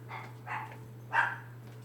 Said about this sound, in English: Oh, who are you barking at?